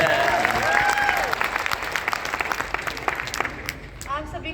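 Audience at an event in Bhilwara clapping in a steady wash of applause, with a speaker's voice audible over the start and the clapping thinning out toward the end.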